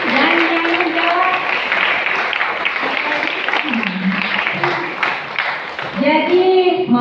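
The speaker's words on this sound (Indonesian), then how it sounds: "Kita kasih tepuk tangan dan yang menjawab." An audience at an Islamic boarding school quiz competition applauds a correct answer, a sustained patter of many hands clapping beneath an adult voice talking and children's voices.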